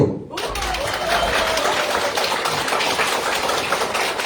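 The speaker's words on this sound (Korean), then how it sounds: "박수!" An audience at a party members' meeting breaks into sustained applause, with a dense steady wash of clapping that starts abruptly and holds for several seconds.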